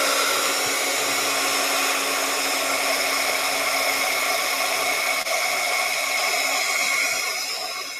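A hair dryer blows steadily at close range, drying a watercolor painting, with a constant whooshing hum that fades slightly at the end.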